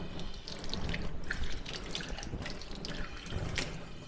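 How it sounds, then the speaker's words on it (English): Water running steadily from a tap in a darkroom sink while a small film holder is rinsed under it, a continuous close splashing with light irregular drips. "I'll also put my little film holder over here to get rinsed out as well"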